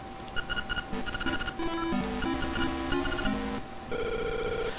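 A telephone rings in the Link's Awakening video game with chirpy, rapid electronic ring bursts mixed with a melodic chiptune background tune. It is loud and steady, with no talking.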